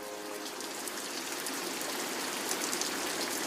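Steady rain falls on the streets of Lipnica Murowana, a small Polish town, as a continuous even hiss of drops on hard surfaces, moderately close and with no other sounds.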